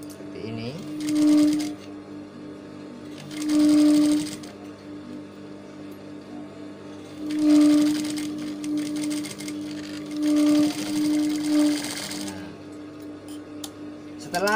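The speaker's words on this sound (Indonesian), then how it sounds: "Setelah bagian pundak kanan kiri kita jahit seperti ini" A sewing machine stitches the right and left shoulder seams of a garment back lining in several short bursts of whirring, with quiet handling between runs.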